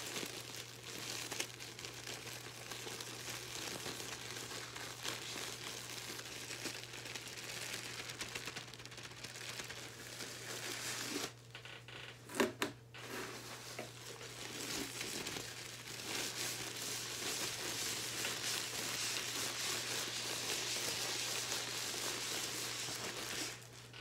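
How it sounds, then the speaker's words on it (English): Packaging mailers being opened make close, continuous crinkling and rustling, with a short pause midway before the crackle resumes. "Mailers, packaging mailers."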